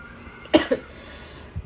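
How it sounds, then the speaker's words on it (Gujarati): A single sharp cough from a person at a home birthday celebration, fairly close, followed by a smaller catch and a faint second cough near the end, with no speech. "ખાંસી જેટલી આવે છે ને."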